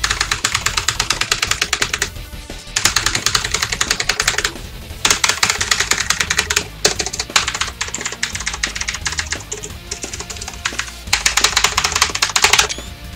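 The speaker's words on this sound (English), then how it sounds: "Let's try every key." Rapid clattering of computer keyboard keys being pressed one after another, close and fairly loud, in dense bursts with a few short pauses, with no voice present.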